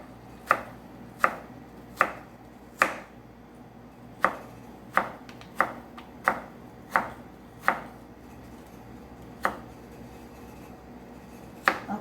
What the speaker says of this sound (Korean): 채 썰겠습니다